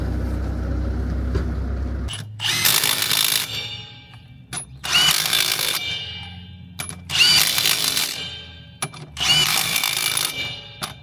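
An impact gun tightens bolts in four loud, rattling bursts with metallic clanks between them, preceded by a low rumble.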